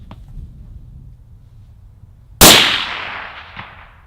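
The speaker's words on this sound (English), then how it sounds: "We're going to shoot 300 yards for a group." A single sharp rifle shot cracks out loud and close after a quiet lead-in, its echo trailing off across a range where the target sits at 300 yards; a faint thump follows about a second later.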